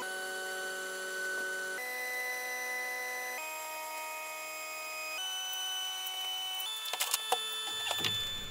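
A CNC router with a V-bit cuts a shallow grid into an MDF waste board, giving a steady whine that shifts pitch in distinct steps as the machine changes direction, ending with a few clattering knocks.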